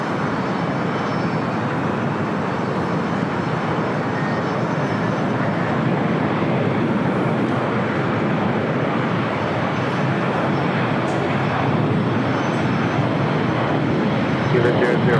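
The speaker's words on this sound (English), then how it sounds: "Next takeoff is Alaska Airlines Flight 1430 heading to Cabo in the 737-900" Alaska Airlines Boeing 737-900 jet taking off at LAX, a broad roaring rumble that holds steady and swells slightly toward the end, loud and continuous, with no separate voices standing out.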